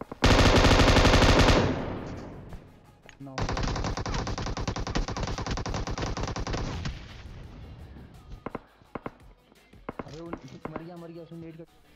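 An M249 machine gun fires in PUBG Mobile: a loud opening burst, a brief pause, then a longer sustained stream of rapid shots, followed by scattered impacts and a voice talking near the end.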